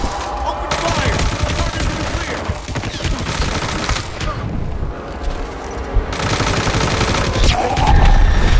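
Dense gunfire in the Hitman: Absolution video game, sustained overlapping rapid shots and bursts across the whole stretch, loud and busy with a voice heard briefly.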